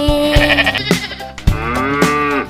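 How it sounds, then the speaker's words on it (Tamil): Goat bleats in a Tamil children's rhyme, a few wavering animal cries laid over a bright musical backing with a steady beat, loud and close. "ஆடும் ஆடும் வீட்டிலே,"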